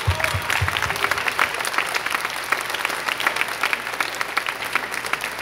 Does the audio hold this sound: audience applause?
yes